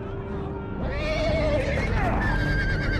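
Horse in the Game of Thrones video game gives a loud, close whinny that rises and wavers over a second or two, set against a dense background rumble.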